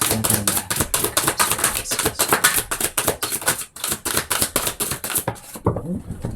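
Tarot deck being shuffled by hand, a fast run of crisp riffling card clicks and flutters in steady bursts, close up, tapering off to quieter rustling at the end.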